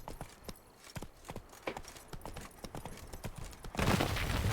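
Roach the horse gallops in Witcher 3, quick rhythmic hoofbeats thudding steadily at moderate volume, swelling into a louder rushing burst near the end.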